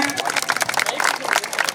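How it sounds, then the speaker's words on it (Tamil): A crowd at a Tamil folk-dance anniversary ceremony in Sulur, featuring Oyilattam and Vallikummi performances, claps throughout. The applause is a moderate, even wash of many hands with faint crowd murmur mixed in. "கைதட்டுங்க"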